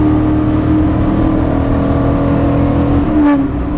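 A classic Maserati Ghibli sports car engine holds a steady, loud droning note, with a brief rising whine near the end; no voices.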